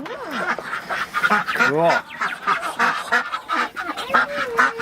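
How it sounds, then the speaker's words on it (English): A flock of ducks quacking busily inside a greenhouse, many close, overlapping honking calls in quick bursts, with a person speaking briefly among them. "They're very quacky."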